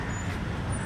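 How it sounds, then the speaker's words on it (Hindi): A car moves along a busy road outside Galaxy Apartments in Bandra, Mumbai, a steady broadband roar of tyres and engine with general traffic noise, fairly loud and continuous. "ये देख सकते हैं गाड़ी एक जा रही है"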